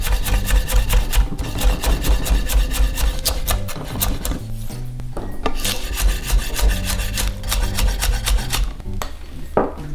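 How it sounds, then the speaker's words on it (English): A knife finely chops green onion whites on a board, making rapid, continuous close tapping and rasping strokes in a steady rhythm throughout. "Just finely chop the whites."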